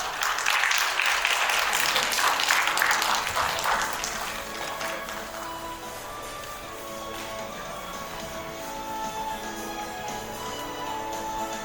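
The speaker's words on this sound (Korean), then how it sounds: "큰 박수 부탁드리도록 하겠습니다" Applause from an event audience for teachers and students at an education-technology forum, a broad patter of clapping that starts fairly loud and then fades to a quieter, thinning level with some background tones.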